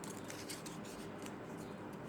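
Scissors trim the handles of a handmade tote gift bag, giving soft, close snipping and rubbing over a steady, quiet hiss, with no one speaking.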